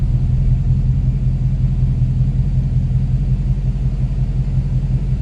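Steady low rumble from a 2019 Ford Mustang GT engine, heard from inside the car, holding a constant even drone with no distinct gear shift or rev change standing out.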